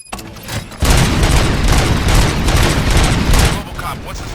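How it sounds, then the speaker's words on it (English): Loud, sustained bursts of rapid gunfire and booming shots crackle without a break after a brief quiet opening, a firefight in the video game RoboCop: Rogue City. "Gunshots? What's going on?"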